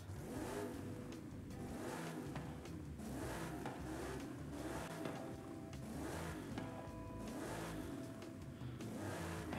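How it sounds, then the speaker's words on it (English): A car with a swapped RB26 engine from a GTR revs in the racing game Forza Horizon 5, a steady loud engine drone rising and falling in several repeated surges, with no talk. "Car sounds good."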